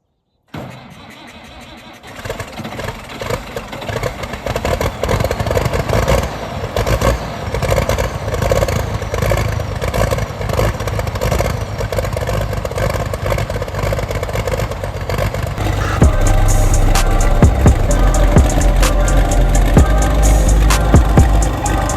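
A Case 1175 tractor engine starts on a cold morning at a tractor pull, cranking briefly after a moment of quiet, then catching and settling into a loud, close, rough idle that grows heavier near the end.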